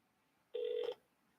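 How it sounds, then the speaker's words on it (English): A single short telephone ring tone sounds once, about half a second long, clear against a quiet background during a call-back attempt. "I'm going to try and call this person back real quick."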